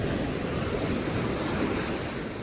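Sea waves crash and wash steadily onto Bangsak Beach at Khao Lak, Thailand, forming a continuous loud roar of surf mixed with wind buffeting the microphone, with no talking.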